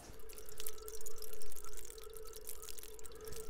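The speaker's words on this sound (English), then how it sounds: "You should get the sound of the bubbles popping." Air bubbles popping and gurgling underwater around a miniature water-resistant digital transmitter submerged one meter deep, a steady close bubbling with irregular pops over a constant tone.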